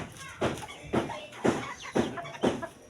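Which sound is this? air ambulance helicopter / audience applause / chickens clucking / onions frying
chickens clucking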